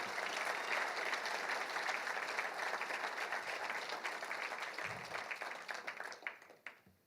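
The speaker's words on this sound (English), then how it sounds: "give them a big round of applause" An audience claps at a football national championship ring ceremony for the coaching staff. The applause is sustained and fills the room, then thins out and fades toward the end.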